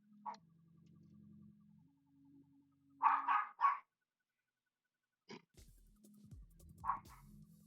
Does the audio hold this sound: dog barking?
yes